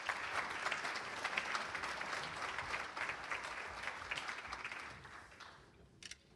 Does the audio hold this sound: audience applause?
yes